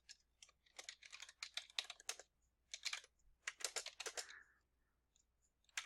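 Rapid clattering keystrokes on a computer keyboard as Java code is typed, arriving in irregular bursts with short pauses between, close and fairly quiet, with no speech.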